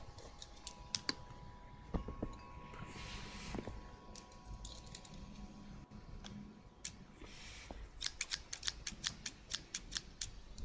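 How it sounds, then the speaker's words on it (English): Scissors snip in binaural ASMR, quiet and very close, with scattered single cuts early on, then a fast run of crisp, evenly spaced snips near the end over soft rustling. "We're just about to do some scissors."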